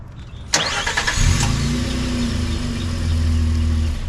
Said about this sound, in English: Let's take a listen though, because this does have remote start.